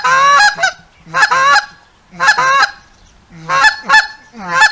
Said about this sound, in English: I'm going to give you just a little audio file of our Goose Call.